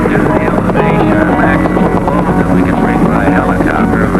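A helicopter flies close by at a mining site in Indonesia, its rotor thumping in a steady, continuous drone with engine whine layered over it, loud and unbroken throughout.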